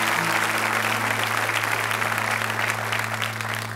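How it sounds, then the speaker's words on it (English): An audience at a church gathering claps steadily throughout, a dense, even wash of hands with a low hum running underneath and no talking. "Clap your hands if you really love the Lord."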